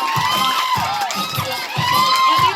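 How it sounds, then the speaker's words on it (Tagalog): A crowd of children and adults shouts on cue, loud overlapping yells in repeated surges close by, with a voice calling out between them. "At may sigaw. Ready? Sigaw!"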